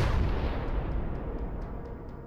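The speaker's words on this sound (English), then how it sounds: "several explosions occurred around" Artillery strikes in war footage on the Ukrainian front, with a dense continuous low rumble of explosions and blasts that stays loud and steady throughout, with no voices.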